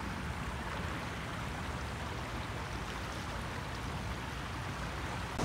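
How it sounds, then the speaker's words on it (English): A creek behind a house in central Iowa, flooded after a flash flood, rushes steadily: a constant, faint broadband wash of flowing water with no breaks and no voices. "our creek behind our house flooded because we had basically a flash flood"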